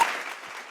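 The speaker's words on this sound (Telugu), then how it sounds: "Thank you so much for wonderful claps." A brief burst of audience clapping at a school annual day dance performance, a short wash of applause that starts sharply and fades slightly.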